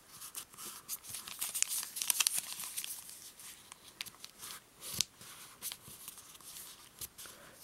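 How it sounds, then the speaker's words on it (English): Sheets of origami paper being folded and creased for an airmail model: steady crinkling and rustling with sharp crackles, close and fairly loud, no voices. "We'll fold this corner into the center. And then we'll do the same thing with the last two."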